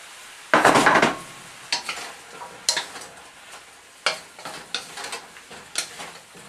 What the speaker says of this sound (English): Just about the same time I'm adding my sweet potato chips right back into the mix